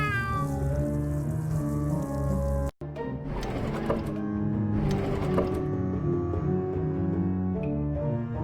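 Synthetic, tonal cat meows in American McGee's Grimm repeat against a busy electronic backdrop, briefly cut by a gap of silence before the sound resumes.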